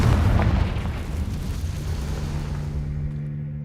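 A Confringo fire spell explodes in the game Hogwarts Legacy: one loud booming blast at the start that decays into a lingering rumble with a faint tonal hum.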